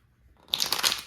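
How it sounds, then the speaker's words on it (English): Tarot cards are shuffled close up, a quick crisp riffle of rustling cards that starts after a brief near-silent moment and lasts under a second. "I will be doing a few more shuffles for each of these and a one-card pull"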